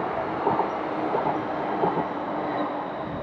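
A train passes at moderate distance in an urban setting, a steady rumbling drone with faint rhythmic wheel clatter and a few brighter squeals, no voices over it.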